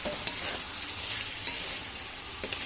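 Small Bombay duck (loitta) fish being stir-fried dry in a pan, a steady close sizzle broken by a few sharp scraping clinks of the spatula, with no voices.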